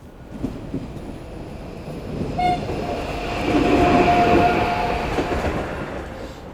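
A train at a railway station, with rumbling carriages building to a loud, sustained roar and a brief horn tone, heard up close with no voices.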